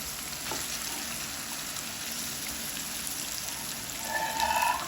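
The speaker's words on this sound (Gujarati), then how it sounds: "5 મિનિટ સુધી આપણે એને તેલમાં આ રીતે તતડવા લઈશું." Taro-leaf muthiya made with chickpea flour, coriander, chillies and sweet corn sizzle steadily in hot oil in a pan, a dense, even crackle throughout with no voices.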